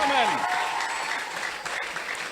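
Church congregation applauding and cheering for Jesus at a French-language service on fasting and prayer, dense steady clapping with raised voices and a shout at the start.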